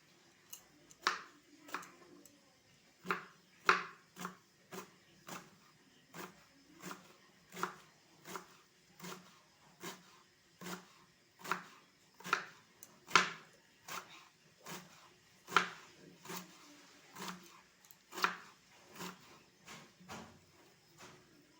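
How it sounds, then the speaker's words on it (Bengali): A knife slices a large cabbage very thinly on a board, producing steady, evenly spaced crisp chops, roughly one every three-quarters of a second, close and clear with no voices. "খুবই পাতলা পাতলা করে আমি এবারে বাঁধাকপিটা কেটে নেব"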